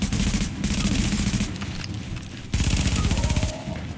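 Dense, continuous gunfire from two weapons in Tom Clancy's The Division, a loud unbroken rattle of rapid shots lasting throughout with a brief dip before resuming at full intensity.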